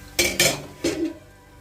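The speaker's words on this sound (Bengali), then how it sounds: "এবারে আমি একটু ঢাকা চাপা দিয়ে দেবো" A lid set onto a pan of frying kalmi greens: two quick metallic clanks followed by a softer rattling knock as it settles, close and fairly loud over a faint background.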